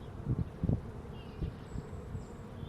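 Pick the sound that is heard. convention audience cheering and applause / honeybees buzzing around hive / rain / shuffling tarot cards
honeybees buzzing around hive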